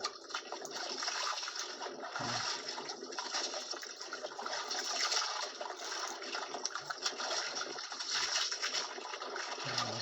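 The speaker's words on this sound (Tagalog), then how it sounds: "Tumutunog sa tubig yung nylon," Nylon fishing line cutting and swishing through water while a fish is hauled in, a continuous watery hiss and splashing that runs steadily throughout, fairly close, with no voices.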